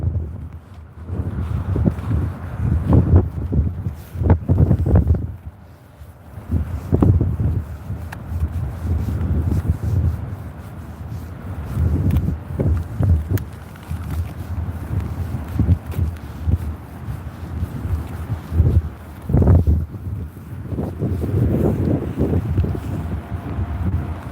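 Strong, cold wind buffets the microphone on Hollym Beach, a loud, gusty low roar that surges and drops in uneven bursts throughout, with no talk over it.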